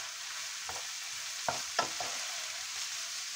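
A small sofrito sizzles softly in a pan for a brothy rice with Iberian pork. It is a faint, steady fry broken by a few sharp spoon taps against the pan.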